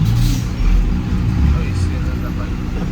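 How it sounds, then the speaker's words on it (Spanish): Heavy truck loaded with cassava pulling away in congested traffic, a deep low engine rumble straining under load, loud and close with a person talking over it throughout. "Ya esa turbo como va a cargar de yuca. Va bien pesada, vea cómo hace cuando arranca."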